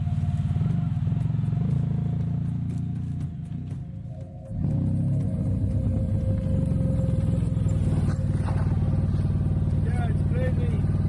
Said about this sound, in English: riding a motorcycle which is over 300 kilograms with accessories in sand and slush